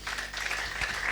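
A church congregation applauds together, a dense, continuous patter of many hands clapping at moderate loudness, with a faint voice underneath.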